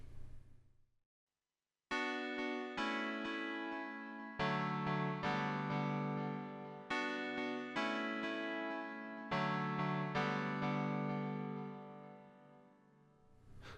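Thin, piano-like synth tone from the first waveform of PPG wavetable P13, a run of separate sustained notes and chords with sharp attacks and slow decays, played alone after a short silence.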